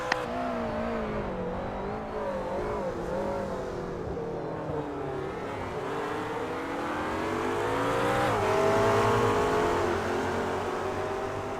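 Race cars corner sideways through a track's infield section: engines rev and wail with rising and falling pitch, loud and steady throughout, swelling briefly near the end, with no voices.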